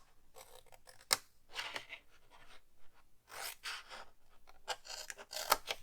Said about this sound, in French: Le petit rectangle, on vient le couper et on crée un onglet